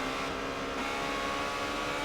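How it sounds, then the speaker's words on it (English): Ferrari 360 Challenge Stradale race cars howling down the straight at Monza, a short, steady, loud blare of revving engines with layered harmonic tones and no letup. "as we see in the cars coming down the straight, heading out into the first chicane."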